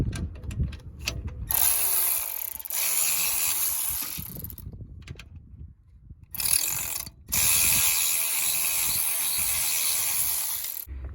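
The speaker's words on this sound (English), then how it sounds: "Now we have tightened our tensioner" Ratchet clicking steadily in bursts as a 10 mm belt tensioner bolt is tightened on a Honda Accord during an alternator replacement, close and loud with brief pauses between strokes.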